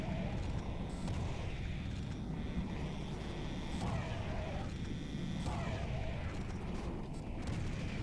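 Continuous heavy gunfire and explosions from the video game Serious Sam Fusion 2017, set in foggy haunted woods, form a dense, unbroken roar of shots and booms with no pauses.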